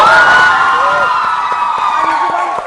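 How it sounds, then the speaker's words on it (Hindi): A studio audience on a televised wedding-dance morning show cheers and whoops, a loud, bright crowd roar with voices rising above it, fading slightly over a few seconds. "पहले तो फारिया के लिए तालियां।"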